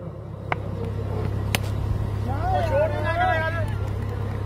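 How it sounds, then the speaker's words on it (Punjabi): A generator runs at a live outdoor sports tournament in Punjab, giving a steady low engine drone beneath the crowd's chatter and a voice talking over it. "ਹਾਂ ਜਨਰੇਟਰ ਬੰਦ ਕਰਨਾ, ਦੋ ਕੁ ਮਿੰਟ ਕਰ ਦਈਏ"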